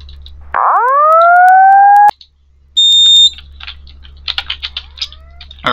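A fire alarm sounds inside a Roblox building: a loud sustained rising electronic tone for about a second and a half, a brief gap, then a short steady beep, followed by quieter scattered chirps and clicks.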